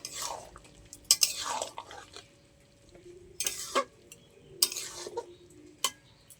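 A mixed vegetable curry stirred in a pan, heard as a handful of close, distinct scraping and clinking strokes over a quiet, faintly simmering background, with no talking.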